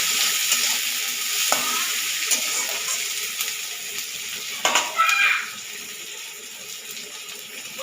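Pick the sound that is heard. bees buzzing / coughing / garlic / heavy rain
garlic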